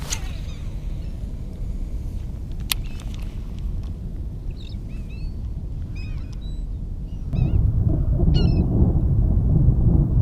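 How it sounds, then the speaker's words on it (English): A large flock of birds feeding over water on a freezing winter fishing trip gives scattered honking and squawking calls, faint to moderate at a distance over a steady low wind or motor rumble, with a louder noisy burst near the end. "I mean, a bunch of birds, but there's not a single fish under them."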